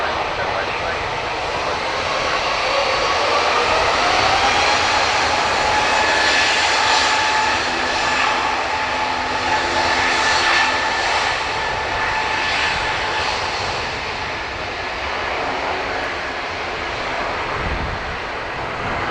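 An SAS passenger jet departing Dublin Airport for Copenhagen roars steadily and loudly for nearly twenty seconds, a broad sustained engine rumble with faint voices underneath.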